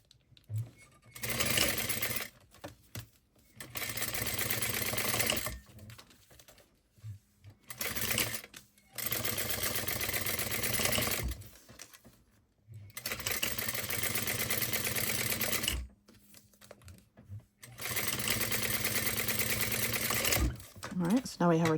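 A sewing machine top stitches a crossbody bag in several steady bursts of rapid whirring, each lasting a few seconds, separated by brief quiet pauses.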